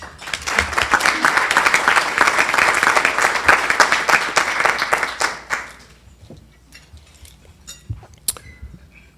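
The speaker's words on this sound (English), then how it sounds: "Please give him a round of applause as he comes to the panel, please." A luncheon club audience at a healthcare forum gives a loud, steady round of applause for a doctor walking up to the panel. It holds for about five seconds, then tapers off into a few scattered claps and room noise.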